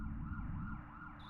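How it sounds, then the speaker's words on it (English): Police sirens from the video game Earthbound, a looping electronic wail that rises and falls steadily and carries on without a break. "The police sirens."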